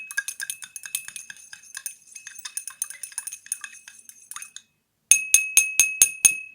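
Sodium hydroxide solution swirled in glassware, giving a dense run of light glassy clinks and ticks for several seconds, then a short pause and a series of sharper, louder regular clinks near at hand.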